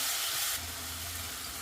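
Onions and tamarind stirred in a frying pan for tamarind rice, a loud hiss that drops after a moment into a steadier, quieter sizzle.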